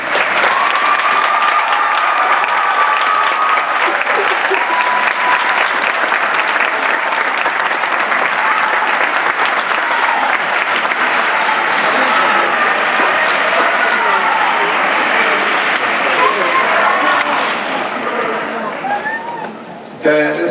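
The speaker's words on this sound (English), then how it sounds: "let's give them a round of applause" A graduation audience at a Fortis College ceremony applauds standing staff and instructors, loud sustained clapping with cheers and whoops mixed in for about seventeen seconds before thinning out and stopping.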